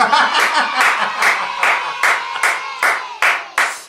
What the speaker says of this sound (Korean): 박수 한번 쳐야 돼.